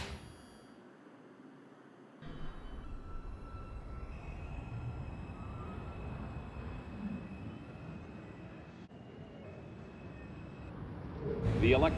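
An R142 subway car on a Manhattan-bound 4 train runs with no HVAC and new door motors. A steady rumble of wheels and motor builds and holds, with a faint whine on top and a rising clatter near the end.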